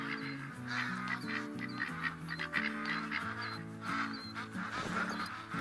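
A flock of ducks in the hunting game theHunter: Call of the Wild at Layton, with continuous layered quacking and honking from many birds at moderate distance, steady and dense.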